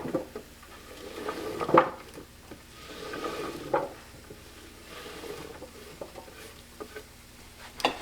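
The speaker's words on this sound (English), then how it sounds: "So I rustically chopped up carrots, onions, garlic, and potatoes, and I'm just going to throw all of that right in to our roaster oven with our meat" Chopped carrots, onions, garlic and potatoes tumble into a roaster oven with meat, giving soft scattered clunks and patters with a few sharper knocks, moderately close and fairly quiet.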